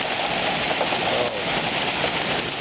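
Heavy rain pours steadily during a severe thunderstorm, a dense, even hiss of drops on surfaces that holds constant throughout with no talking.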